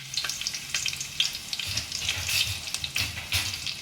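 Hot oil crackles and sizzles in a pan while making chicken minestrone soup, with close, uneven bursts of spattering and a few knocks of stirring.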